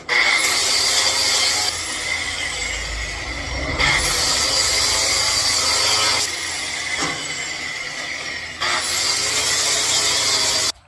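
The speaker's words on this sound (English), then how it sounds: "now I'm gonna polish it up with my flap wheel" A flap wheel on a grinder polishes the metal frame of a 1946 Chevy truck, loud and continuous in three long passes with short dips between them and a rising whine as each pass starts.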